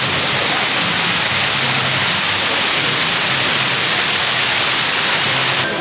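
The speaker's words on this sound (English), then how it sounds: "Great waterfall entrance." Waterfall at the entrance to the Pipeline ride at SeaWorld Orlando, a loud, steady rush of falling water that fills the scene as a continuous roar with no voices.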